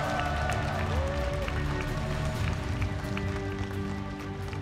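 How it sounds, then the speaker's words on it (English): Applause and cheering from the crowd at the AfreecaTV StarLeague ASL Season 7 grand finals for the champion, a steady dense wash of clapping that carries through the whole stretch. "Can please give a loud round of applause to our champion"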